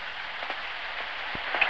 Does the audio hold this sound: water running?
no